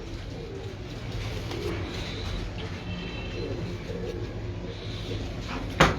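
Pigeons on a rooftop loft in Pakistan cooing softly over steady outdoor background noise, low murmuring calls continuing throughout, with a sharp knock near the end.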